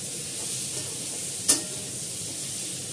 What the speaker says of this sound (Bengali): তরকারিটা ছড়িয়ে মাঝখানে একটু তেল দিয়ে দিচ্ছি